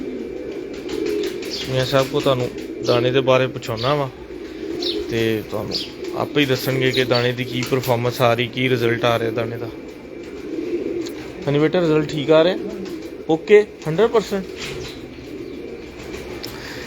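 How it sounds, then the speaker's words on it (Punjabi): Pigeons coo and flutter in a loft where young birds are being raised, their low soft calls running steadily beneath a man's close conversational speech, with a second voice briefly answering. "ਕਬੂਤਰਾਂ ਦੀਆਂ ਠਾਪੇ ਦੀਆਂ ਆਵਾਜ਼ਾਂ ਤੁਹਾਨੂੰ ਆ ਰਹੀਆਂ"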